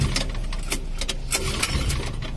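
A 1 kVA generator engine, flooded with kerosene and failing to start, is pull-started several times: a run of sharp, rattling bursts over a steady low mechanical rumble, close and fairly loud.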